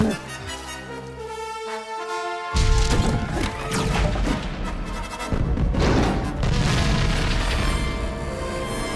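A generator blown apart by explosive charges in Lego Star Wars: The Complete Saga, on Endor, bursts into a loud crashing explosion that follows a tonal musical passage, then rolls on as a sustained rumbling, clattering debris roar.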